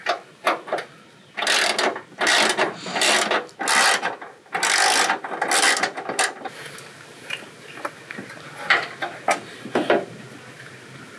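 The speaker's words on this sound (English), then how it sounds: "I think it's just these two bolts to take out the reservoir" A hand ratchet loosens bolts holding the washer fluid reservoir on a Mitsubishi Montero, heard up close as bursts of rapid clicking. The bursts are dense in the first half, then give way to sparser clicks and light rubbing.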